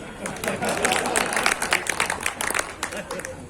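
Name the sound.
audience applause at a poetry recital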